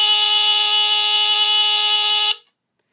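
Sears Early One 350.57046 smoke detector sounding a loud, steady, low-pitched alarm tone that holds unbroken for over two seconds, then cuts off abruptly into silence.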